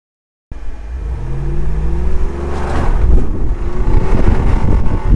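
A Jeep Wrangler 392 V8 in Off-Road Plus mode launching on dirt, its engine note rising loud and close, then bogging with a labored, uneven drone under strong wind buffeting.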